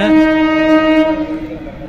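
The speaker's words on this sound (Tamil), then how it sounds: "ஓகே ஃப்ரெண்ட்ஸ் ட்ரெயின் வந்துச்சு" A Chennai metro train rolls into the station close by with a steady, loud tonal hum and squealing harmonics, gradually easing off as it slows.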